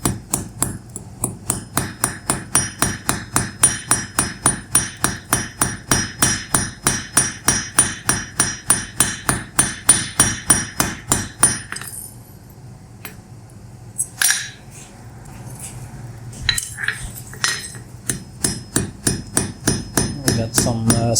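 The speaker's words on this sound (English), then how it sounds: "So the ring I'm gonna forge out of a 3mm iron wire, making tapers." Steady, rapid hammer blows on an anvil as 3mm iron wire is forged into a ring, sharp close metallic strikes in a regular rhythm, a brief quieter pause with scattered taps, then the blows resume.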